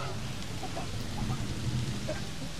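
Rain falling in the dinosaur park video game Jurassic World Evolution, a soft steady patter with faint distant rumbles and occasional low animal calls in the background.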